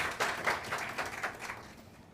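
Studio audience clapping during a Rabi-ul-Awwal special religious program, a short burst of scattered applause that peaks early and then tapers off, moderately faint.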